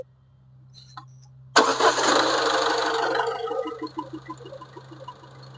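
A Ford EcoSport Titanium engine cranks and catches abruptly, then settles into a steady idle that gradually quiets, close by with no talking.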